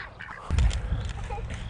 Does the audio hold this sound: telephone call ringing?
no